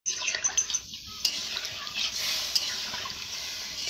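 Water poured into a pan of frying vegetable curry, a brief clatter of the pot followed by a rising, steady hiss and sizzle as the liquid hits the hot pan, close and fairly loud.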